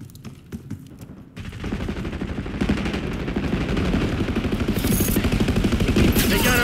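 Rapid automatic gunfire fills a Call of Duty: Black Ops 6 open beta match. Sparse shots come first, then a dense, loud, sustained burst of rattling fire builds and continues to the end, with voices faintly underneath.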